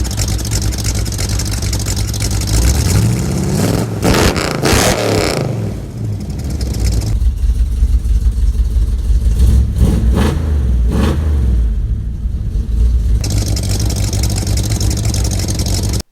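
A 1967 Ford Mustang engine revving hard through a freshly welded stainless exhaust, headers to tailpipes, with loud repeated throttle blips and rising roars between a steady rumbling idle, close and alone.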